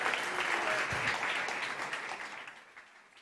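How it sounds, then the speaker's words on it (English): An audience at a startup competition conference applauds as a company is welcomed on stage, a loud burst of dense clapping that gradually tapers off over a few seconds. "Big applause, guys."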